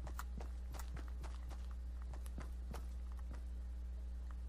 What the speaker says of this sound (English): That was just my footsteps.